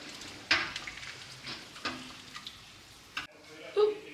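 Homemade stew stirred in a pot that is too small, soft sizzling with a few sharp spoon-against-pot knocks and scrapes, fairly quiet, with a voice speaking briefly.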